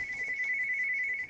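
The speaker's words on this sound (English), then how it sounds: "Whoops, that's my phone." A phone ringtone sounds as a steady, continuous electronic tone through the whole moment, loud and close, with faint game noise underneath and no talking.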